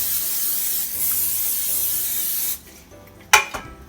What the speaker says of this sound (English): we're just going to spray the pans so that the cake won't stick